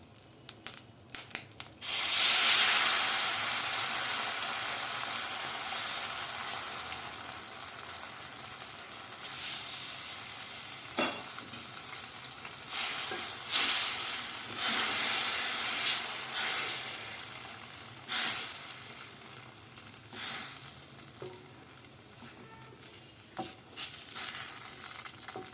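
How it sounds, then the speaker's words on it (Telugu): Custard milk poured into a hot pan over fried buns gives a loud burst of hissing sizzle at first, settling into a steady frying sizzle broken by short spitting surges and stirring noises, with no talk. "ఆ కస్టర్డ్ మిల్క్ని ఇందులో యాడ్ చేసుకోవాలి."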